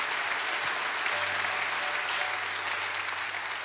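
An audience at a live music event claps in steady, sustained applause, dense and even, with a faint tone lingering beneath.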